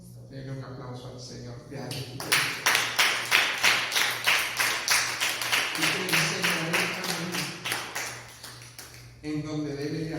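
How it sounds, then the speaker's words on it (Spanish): Rhythmic clapping from a church congregation, loud and steady in unison beats for several seconds, with a sustained low hum underneath and a voice speaking before and after. "Denle un aplauso al Señor."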